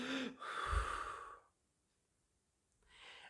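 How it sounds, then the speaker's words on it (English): A person takes a deep, audible breath, a long airy inhale and exhale lasting about a second, followed by silence and then the start of another soft breath. "Take a breath."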